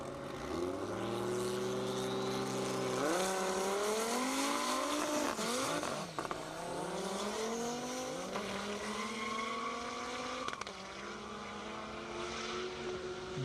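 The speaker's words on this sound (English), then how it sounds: "Two Vipers going at it head-to-head" Two Dodge Viper drag race cars launching head-to-head on a half-mile airport drag strip, a loud roaring engine wail that climbs through repeated gear shifts, sustained and fairly distant throughout.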